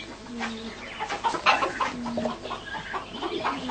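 A hen clucks nearby in repeated short bursts, with a few drawn-out calls mixed in, helplessly watching while a stone marten takes her eggs.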